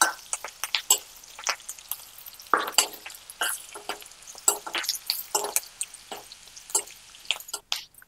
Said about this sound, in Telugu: కరివేపాకు మంచిగా వేగనివ్వండి